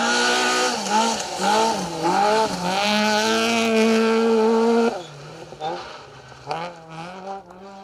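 A little Vauxhall Corsa rally car races through a forest stage of the Roger Albert Clark Rally 2023, its engine loud and close, revving up and dropping through gear changes while a commentator talks over it.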